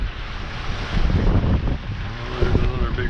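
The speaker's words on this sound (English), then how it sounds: "Wind is 20 knots behind us." Strong 20-knot following wind roars across a sailboat at sea in rough swells, a steady close rumbling gust noise mixed with water rush and faint background voices.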